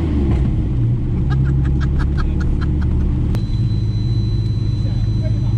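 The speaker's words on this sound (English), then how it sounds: "Neutral, give it a rev." A TVR Sagaris sports car idles in neutral with a deep, steady, loud rumble that holds throughout, heard from close by. Voices talk over it and a few faint ticks come and go.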